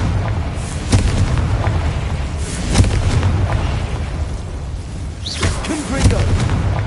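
The Confringo blasting spell in Hogwarts Legacy: deep, rumbling booms burst out repeatedly over a dense, loud roar of game noise, with a few sharper cracks and a brief whooshing rise near the end.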